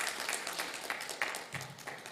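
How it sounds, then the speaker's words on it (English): Audience at a spelling bee applauding a contestant, a fairly soft patter of clapping hands with a few distinct louder claps standing out. "I want us to give her that extra round of applause"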